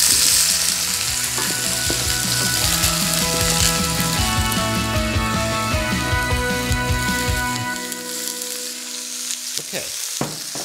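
Vegetables sizzling in a pan alongside beef being browned for sauerbraten, a loud continuous frying hiss with clattering stirring and scraping, close up and without speech.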